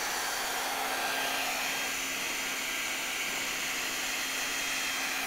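A heat gun with a precise nozzle shrinking a heat shrink boot onto a connector, a steady airy blowing hiss with a faint constant hum, unbroken and close throughout.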